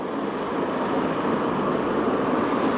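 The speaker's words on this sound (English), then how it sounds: "there's a blue car, it's coming up this way. It'll be passing me in a second." A blue car approaches and passes by on a road near a field, its broadband tire and engine roar steady and fairly loud throughout, with no talking.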